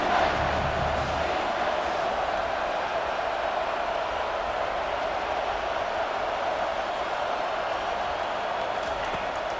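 Stadium crowd at a college football game roaring steadily behind the defense near the goal line, a wide, constant wash of cheering voices that stays loud and even throughout.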